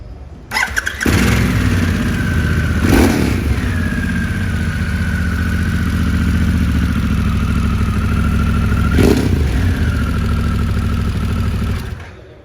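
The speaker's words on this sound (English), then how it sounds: "To start the bike, flick that switch on here." A Harley-Davidson Pan America motorcycle engine cranks and fires up, then settles into a loud, steady idle close by for about ten seconds, with two brief revving swells before it cuts off.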